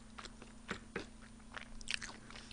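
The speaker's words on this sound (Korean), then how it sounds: "치킨이 진짜 바삭바삭한데, 이 양파가 엄청 시원해." Crisp, crunchy bites and chewing of fried chicken with creamy onion sauce, a few sharp cracks followed by moist munching, close up and fairly quiet over a low hum.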